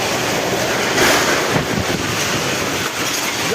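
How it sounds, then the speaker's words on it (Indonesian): Heavy rain and strong wind lash a city street in Bandung during a storm, a loud, dense, continuous roar of downpour and gusts with no voices. "Hujan deras dan angin kencang di kota Bandung merobohkan 2 papan reklame di lokasi berbeda"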